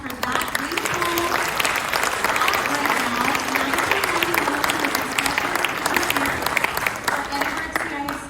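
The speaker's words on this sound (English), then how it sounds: "let's give a round of applause for that beautiful" Crowd applause honoring North High School choirs of 1991 at an Edinburgh CISD gathering, steady clapping with voices calling out and talking over it throughout.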